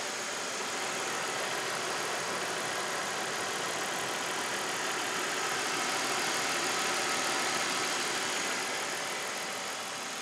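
A BMW 520 E39 engine with 142,000 km and fresh oil idles smoothly, a steady even hum with faint high hiss, constant in level throughout, with no voices.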